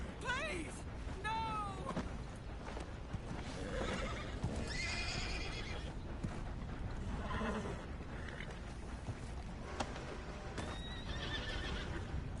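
A horse neighs and whinnies in Red Dead Redemption 2, with hooves clip-clopping, sounding close and over a steady game ambience, while someone talks over it.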